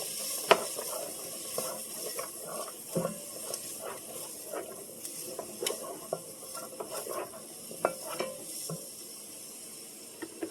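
Celery being stirred in a pan for a ground beef pasta dinner: scattered scraping clicks and taps of the spoon over a soft, steady frying hiss, close by with no talking.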